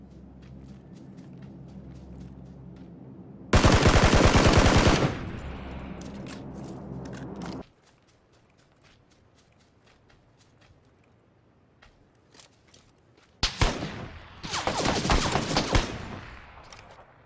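Gunfire in the PUBG video game: a dense loud burst of rapid shots, then quieter background, then a second rapid volley near the end.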